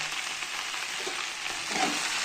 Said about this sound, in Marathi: चांगली परतून घेऊ। स्लो गॅस ठेवायचा फक्त।